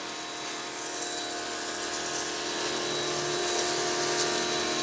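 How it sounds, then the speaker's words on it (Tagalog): A high pressure washer runs with a loud, steady hiss of spraying water and a constant pump whine, rising slightly in strength over the few seconds. "Ito po yung order niyo na high pressure washer."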